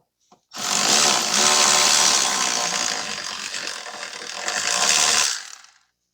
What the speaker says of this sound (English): We'll use the electric ratchet to get that out.